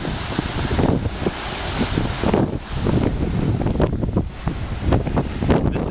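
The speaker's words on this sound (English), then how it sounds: "the beach area, the ocean area at Hotel Rio Palace Peninsula" Wind and ocean waves at the beach of the Hotel Riu Palace Peninsula: loud, gusting wind buffets the microphone over a continuous rushing wash of surf, with no talking.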